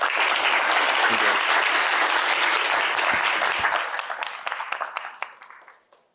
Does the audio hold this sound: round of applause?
yes